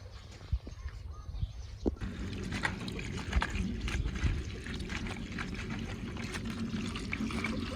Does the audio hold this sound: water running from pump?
yes